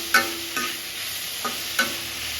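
Chicken sautéing in a pan for a Tamil chicken varuval, with a steady background sizzle and a few sharp stirring scrapes spaced across the moment.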